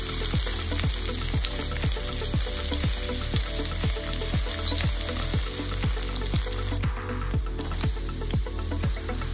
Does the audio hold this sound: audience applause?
no